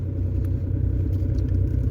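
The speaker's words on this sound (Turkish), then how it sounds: "Araba resmen karı yarıyor." A car pushes through deep snow on a rural road, giving a loud, steady low engine rumble with continuous tire churn throughout, no talk over it.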